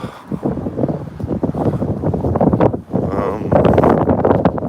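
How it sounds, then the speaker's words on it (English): Strong swirling wind during a city fire, buffeting the microphone with continuous loud roaring rumble that surges and briefly dips. "And now it seems to be swirling east-west type of wind."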